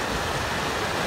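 Seasonal water flowing down from the hills near Ghumaidevi Temple in Pimpode Bk, Satara, a dense steady rush like a stream or small waterfall, close and continuous with no voices.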